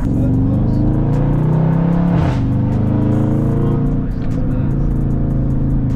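A loud Dodge Charger 392 Scat Pack exhaust rumbles and revs close by, the engine note swelling and dropping in a deep, throaty drone.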